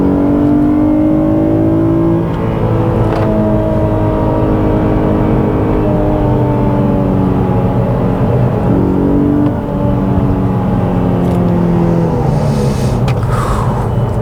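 An Infiniti G37s with a manual gearbox drives steadily through tight curves, its engine droning loud and close as the pitch rises and falls with throttle changes, with no talking.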